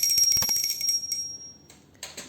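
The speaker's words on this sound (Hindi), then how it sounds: "घंटी बजा के भोग लगा दिया।" A small bell rings during a Hindu puja food offering, a bright sustained metallic ringing that fades, followed by a couple of softer, shorter strikes near the end.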